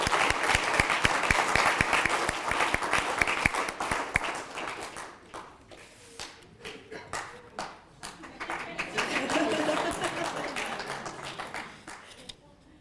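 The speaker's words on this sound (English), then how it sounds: "So we may have to keep clapping for them because they're so outstanding." An audience at an educators award ceremony applauds the awardees, with dense clapping that fades out midway and then swells again, and some talking in the room.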